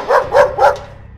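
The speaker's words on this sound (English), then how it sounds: "A man growling like a dog." A man-dog creature voiced by a man growls like a dog, three rough, loud, barking bursts in quick succession, then a short fading tail.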